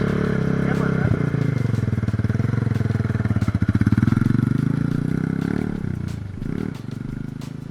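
Motorcycle engine revving steadily and loudly close by as a learner eases out the clutch during a riding lesson, with a pulsing throb midway and the revs dropping near the end, under voices.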